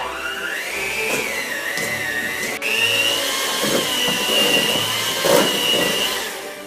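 An electric hand mixer beats cream cheese for a holiday cheesecake, a loud steady motor whine whose pitch climbs and shifts as the beaters work through the thick batter, with brief dips and surges and no talking.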